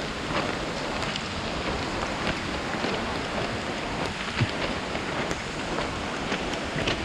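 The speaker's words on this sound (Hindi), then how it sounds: "कैमरे में इतना दिख नहीं रहा बट बहुत जोर से बारिश" Heavy monsoon rain pours steadily on a ride to the Dudhsagar waterfall in Goa, a dense, continuous hiss of drops close by with no talk over it.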